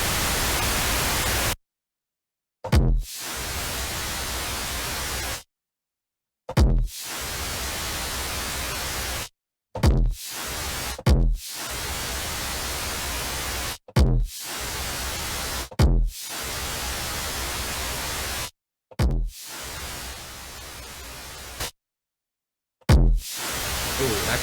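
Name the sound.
Bitwig Ghost kit drums with heavy weird distortion plugin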